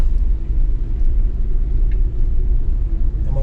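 A Toyota 4Runner climbs a small muddy hill in bad weather near Congress and Yarnell, Arizona, its engine a loud, steady low rumble held throughout with no break.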